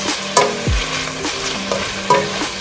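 Collard greens sautéing with onions in a pan give a steady sizzle, broken by several clear stirring scrapes and clanks of a utensil against the pan, with no talk.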